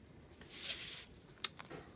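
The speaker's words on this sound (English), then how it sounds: "let me use this bullet nib. I'm going to add even more shadow here." A pink bullet nib marker shades on paper with a soft, brief scratchy stroke, followed by a sharp little tap and a couple of lighter touches, all quiet and close.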